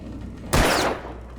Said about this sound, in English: Hold your gun sideways while we shoot this thing of cans.